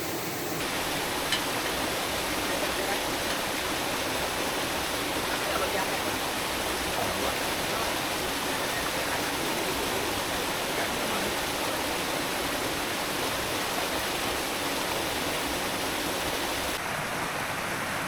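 A cold mountain river at Gunung Puntang, Bandung, rushes steadily and loudly as a close, continuous broadband wash of water with no pauses, like a stream or small waterfall.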